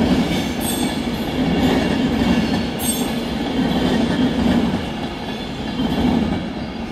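A Virgin Pendolino class 390 train departs London Euston, with a steady, loud rumble and rail noise that swell and ease. Faint high squeals and clatter come through, and no one speaks.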